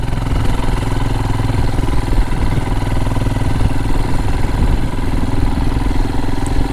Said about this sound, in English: using the long stroke chuggability of the engine